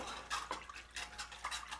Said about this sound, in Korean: 거품기를 한번 이제 풀어 주시고요.